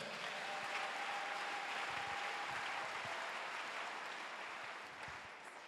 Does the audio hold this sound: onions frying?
no